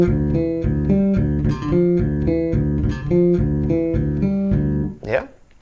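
Fast bass guitar line played up to full speed, a steady run of plucked notes with a driving rhythm and no talk, ending in a brief slide.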